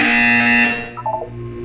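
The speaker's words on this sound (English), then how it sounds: "You will hear a buzzer." A loud, sustained electronic buzzer in the video game Portal 2 drones for about half a second, then cuts off, leaving a few softer tones behind.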